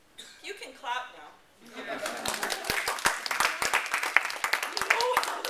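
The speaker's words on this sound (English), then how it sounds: "You can clap now." After a brief spoken phrase and a chuckle, a conference audience breaks into steady applause that holds for several seconds.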